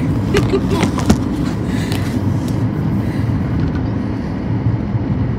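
Steady low rumble of a car accelerating on the road, heard from inside the cabin, a dense continuous drone with faint clicks and no talk.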